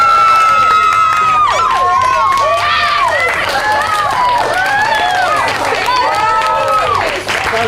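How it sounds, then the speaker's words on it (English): Young audience cheering, shrieking and screaming loudly for a girl in a boy-versus-girl acro gymnastics challenge, a dense sustained roar of high voices with little audible clapping throughout. "applaud as loud as you want for Salish"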